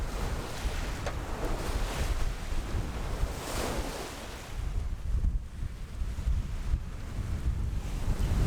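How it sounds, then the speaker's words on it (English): Steady wind buffeting a microphone outdoors, with broadband rushing and lapping water beneath, continuous and fairly loud throughout. "It's a little bit windy out here"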